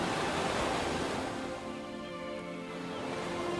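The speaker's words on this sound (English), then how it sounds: "the rhythm of the rolling waves" Ocean waves roll onto a shore in a steady, continuous wash of surf, moderately loud and close, with no voices.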